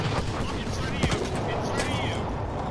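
Gunfire rattles continuously in a beach-defense video game, a dense wash of rapid shots and distant blasts with a few sharper cracks standing out, fairly loud throughout.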